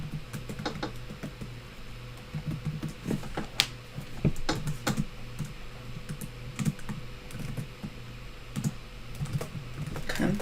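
Keys clack in quick, uneven bursts as C++ code is typed on a computer keyboard nearby. Short pauses separate the runs of taps, and no one speaks.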